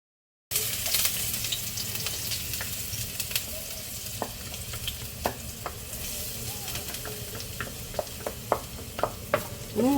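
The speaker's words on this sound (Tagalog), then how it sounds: "Gusto ko talaga ang amoy ng garlic at saka onion pag nagigisa." Garlic and onion sauté in a pan with a steady broadband sizzle, punctuated by repeated scrapes and clinks of a spatula stirring, fairly close and with no one speaking.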